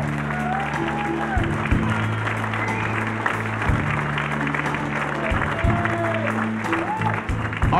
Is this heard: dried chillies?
no